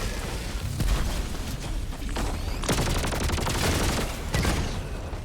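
The Double Edge Sickle laser weapon fires in Helldivers 2, rapid sustained bursts of crackling shots in a dense stream, pausing briefly and resuming, loud and close with no talk.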